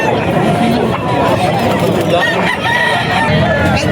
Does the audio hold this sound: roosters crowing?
yes